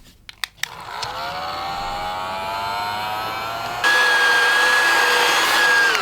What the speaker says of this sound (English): So we need to vacuum that as well.